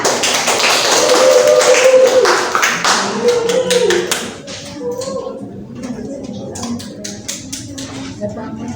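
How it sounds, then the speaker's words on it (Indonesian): Hands clap in a steady patter to welcome a performer at a Kartini Day school celebration, loudest over the first four seconds and then thinning to scattered claps while voices murmur underneath. "Tepuk tangan yang meriah"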